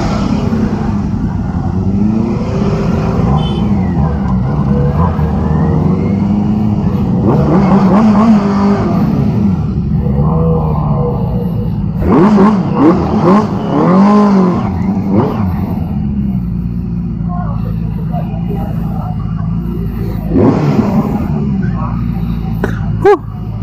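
Benelli TNT600i 600cc inline-four motorcycle engine, loud and close, with sustained revving and several rising throttle blips, and a voice briefly talking over it.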